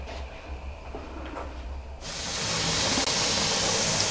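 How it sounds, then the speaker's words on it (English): A pressure canner loaded with jars of Caribbean jerk chicken vents steam; a quieter hiss swells after two seconds into a loud, constant rushing jet that holds steady to the end. "now we have a constant stream of steam"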